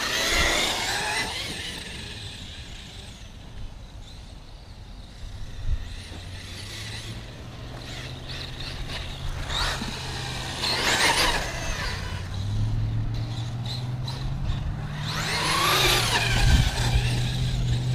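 Thunder Tiger e-MTA G2 6s electric RC monster truck run at about half throttle, a whining motor surging in several bursts with tyre and gravel noise, rising and fading as it passes nearby.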